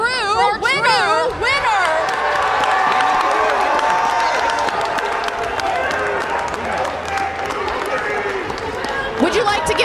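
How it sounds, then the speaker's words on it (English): An audience at a Day of Giving livestream event applauds and cheers a contest winner, a loud mix of crowd noise and clapping. Voices and lively talk carry over the top throughout. "let's give an honorable applause for a true winner."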